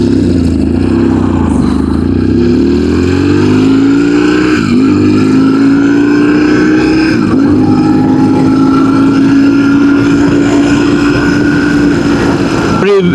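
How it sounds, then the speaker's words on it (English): A BMW R1150GS motorcycle on the road under light throttle, its engine drone rising steadily in pitch as it pulls, loud and close with wind noise over the whole run. "It's like with a very little throttle, the bike goes."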